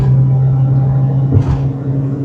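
Mitsubishi Pajero Mini, a small four-wheel-drive kei car, accelerating hard around a corner: a steady loud low engine drone with a brief surge of broadband roar midway, heard alone.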